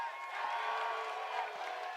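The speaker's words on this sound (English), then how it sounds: "Keep booing my ass." A press-conference crowd at a UFC event booing a fighter, a continuous dense roar of many voices filling the room at moderate volume and steady throughout.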